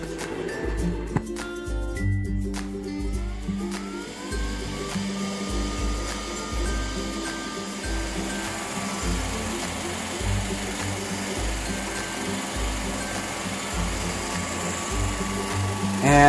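A Smartbot robot vacuum cleaner runs with a steady, close mechanical whir and hum, and its motor tone shifts a little as it moves.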